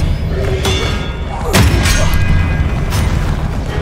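Confringo spell impacts in the Hogwarts Legacy video game land as a few heavy thuds and booms, one sharp blast near the middle, over a constant loud bed of game ambience.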